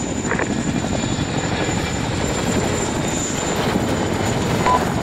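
Steady, loud helicopter rotor and engine drone in a video game, continuous throughout with no talking over it.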